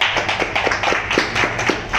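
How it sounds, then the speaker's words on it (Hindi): A group of students clapping together during a live class, a steady, close run of sharp claps filling the whole moment at an even rhythm with no one talking. "एक बार इनके लिए जोरदार तालियां भाई।"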